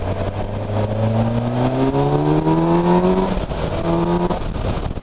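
Kawasaki Versys motorcycle pulling hard in third gear, its engine note rising steadily in pitch, then a brief dip at a gear change and the climb starting again, loud and close with no talking.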